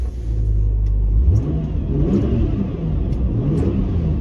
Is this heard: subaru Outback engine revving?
yes